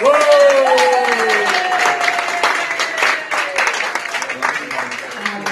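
Audience applause for an award winner at a business hall of fame ceremony, loud and dense at first then thinning, heard under a voice and some music or cheering tones.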